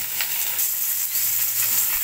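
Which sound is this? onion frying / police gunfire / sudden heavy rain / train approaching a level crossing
onion frying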